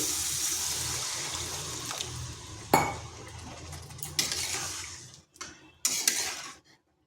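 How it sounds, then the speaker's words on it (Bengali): Hot water poured into a pan of egg and potato curry, a steady watery rush with sharp metallic clinks of utensils against the pan, ending in a few brief splashes and knocks. "এরপর এখানে দিচ্ছি জল। আমি এখানে গরম জল ব্যবহার করছি।"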